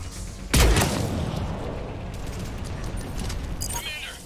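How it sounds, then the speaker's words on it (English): A heavy explosive boom from mortar fire lands early in a Mass Effect 3 battle, then rumbles and decays into sustained battlefield noise with scattered distant impacts and a faint voice over the din. "Commander, we're getting a lot of mortar fire."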